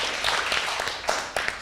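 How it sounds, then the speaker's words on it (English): Audience applauding debate championship participants at the Church of St. Monica, a steady dense patter of clapping from a crowd, loud and continuous with a few sharper claps near the end. "you really deserve another round of applause"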